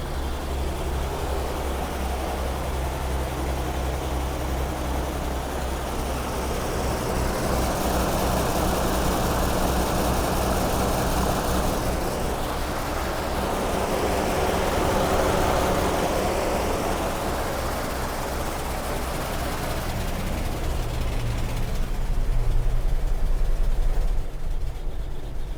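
Toyota FJ40 engine idling steadily with the choke pulled out, a continuous low rumbling drone that holds at an even, loud level for the whole stretch with only slight swells, and no talking over it.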